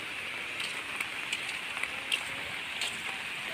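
A steady hiss of rain falling on a surface, with scattered drips and taps standing out, constant and moderately loud.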